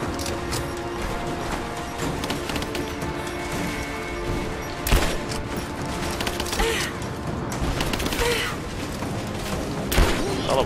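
Combat in the video game Rise of the Tomb Raider, with scattered gunfire, clanking mechanisms and a few heavier thuds from thrown bombs over a dense, steady din of battle.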